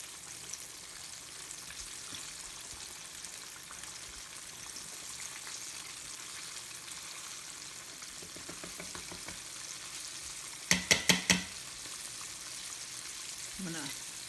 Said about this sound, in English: it's kind of more like a deep fry because they're so thin.